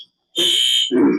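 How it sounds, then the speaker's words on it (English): A fire alarm sounds in a meeting room as a loud, shrill electronic tone that cuts off briefly and then returns as a harsher buzz, with no voices. "Sorry, Matt, we have a fire alarm going off."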